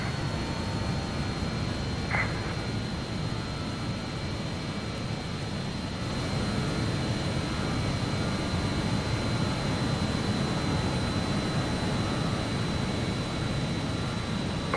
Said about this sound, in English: And we select climb thrust on the engine.